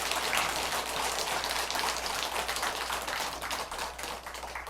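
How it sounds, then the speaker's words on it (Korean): Sustained applause from an audience at a Buddhist dharma talk, dense clapping running steadily and fairly loud throughout with no speech over it. "막상 또 박수 치시니까 좀 못 적네요"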